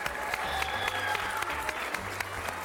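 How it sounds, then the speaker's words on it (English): Kids and parents at a holiday event at the Columbus Zoo clap in lively, continuous applause, a dense patter of many hands that stays fairly close and even throughout. "How about giving your moms and dads a round of applause?"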